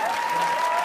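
A studio audience applauds in a brief, steady burst of clapping heard at moderate distance.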